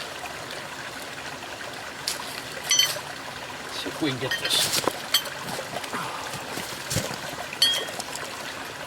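Stream water trickles and splashes at a gold mining claim, where a sluice sits perpendicular to the flow, with bursts of sloshing and knocks close by while a person talks over it.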